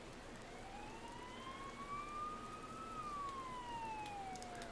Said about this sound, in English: I hear sirens nearby.